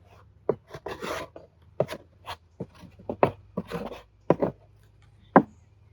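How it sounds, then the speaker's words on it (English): Beeswax being scraped off beehive equipment after a hive inspection, a series of short rough scrapes and taps close by, irregular and fairly quiet. "kind of want to scrape your wax off"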